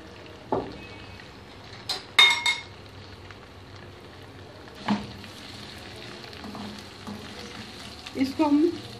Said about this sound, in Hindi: तो भिंडी को इसमें फ्राई करेंगे।